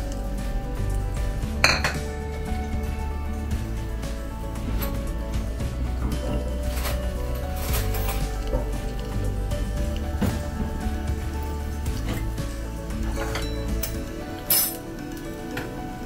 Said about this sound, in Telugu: పోపు దినుసులు, ఆవాలు, సాయమినప్పప్పు, పచ్చెనప్పప్పు, జీలకర్ర ఇవన్నీ కలిపి పోపులో వేసేసుకుందాం.